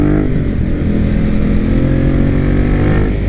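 A Ducati Monster 821 Testastretta motorcycle engine runs close and loud at low revs, a steady, throbbing rumble with a slightly uneven, jerky throttle and no voices.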